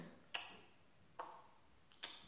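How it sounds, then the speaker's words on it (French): A clock ticks in a quiet room, three sharp, evenly spaced ticks standing alone with no voices. "on entend l'horloge"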